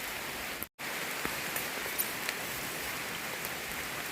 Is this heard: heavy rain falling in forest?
yes